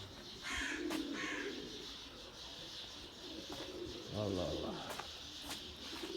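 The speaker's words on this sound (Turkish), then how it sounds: "kargalar bunlar arkadaşlar" Crows call outdoors in several separate, fairly distant caws, mixed with pigeon-like cooing and a low background murmur.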